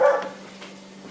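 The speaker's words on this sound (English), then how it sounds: "That dog got the devil in her." A dog gives a single sharp bark at the start, loud and close, then the room falls to a quiet hum.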